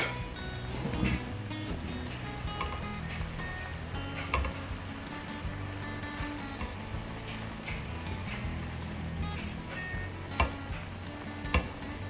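Fish stir-frying in a wok with black bean sauce gives a steady, even sizzle throughout, with occasional sharp clinks of the utensil against the pan and no voices.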